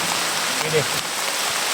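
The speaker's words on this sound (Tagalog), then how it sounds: "Sobrang lakas ng ulan talaga." Heavy rain pours steadily and close by in a broadband wash, with a person speaking briefly over it.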